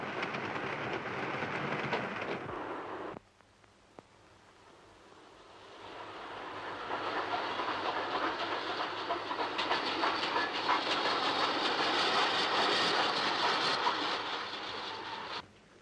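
A train rumbles along the rails, a loud rushing clatter that drops away abruptly, then swells back up steadily and stays strong to the end.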